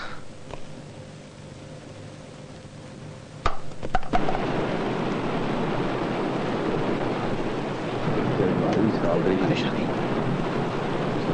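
Steady rain pours down in a broad, constant hiss after a few sharp knocks, with voices faintly audible beneath the downpour.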